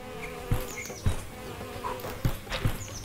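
Wasps swarming around a hive in the medieval fantasy game Of Blades and Tails, a steady close insect buzz with droning wingbeats, punctuated by several soft thumps and short swells.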